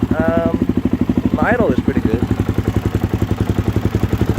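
A 2013 Suzuki DRZ400SM single-cylinder engine idles close by with a steady, even pulsing thump, while a person talks briefly over it near the start.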